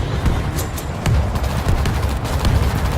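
Grenade blast and rapid gunfire in the zombie shooter World War Z, with loud dense bursts of shots and booms rolling continuously at close range, no talk over them.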